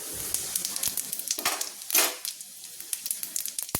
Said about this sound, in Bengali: এবার তেলটা কিন্তু গরম হয়ে গিয়েছে। রান্নাটা করে নেওয়ার জন্য দিয়ে দিচ্ছি ফোড়ন। প্রথমে আমি দিয়ে দিচ্ছি 1 চামচ 5 ফোড়ন,